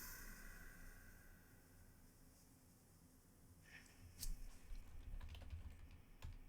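Someone types a folder name on a computer keyboard, a short run of faint, close key clicks that grows busier toward the end, with no talk.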